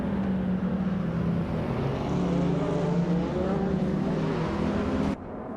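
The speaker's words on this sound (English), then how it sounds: "the race kicks off at Tsukuba, and leading the pack is bot HP Lootcraft in a classic 1984 Audi Sport Quattro" Race cars launch at the start of a race at Tsukuba in a racing video game, led by a 1984 Audi Sport Quattro, a steady loud engine drone with rising revs that drops off abruptly near the end.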